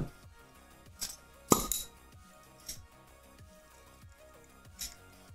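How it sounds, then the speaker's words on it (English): Reusable ice cubes made of recycled biodegradable material clink in a wine glass, a few sharp separate taps spaced about a second apart, close and fairly quiet. "These are ice cubes."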